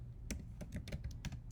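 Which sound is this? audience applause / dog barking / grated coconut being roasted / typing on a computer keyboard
typing on a computer keyboard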